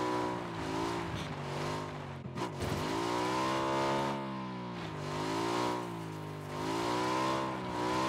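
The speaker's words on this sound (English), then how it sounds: "There's a car buggy over there." A buggy engine in PUBG drives and revs steadily up and down, a droning motor with rising and falling pitch and a brief tire-scrub moment partway through, loud and continuous.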